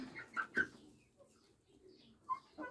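Soft clucks and cooing calls from nearby growing chicks and a young cockerel, a few short bursts separated by quiet pauses.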